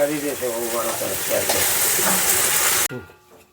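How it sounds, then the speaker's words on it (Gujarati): Loud crackling sizzle of spices and curry leaves hitting hot oil for dal tempering, bursting up and hissing steadily before cutting off abruptly; a voice is heard briefly at the start. "દાળનો વઘાર કરે છે મહારાજ"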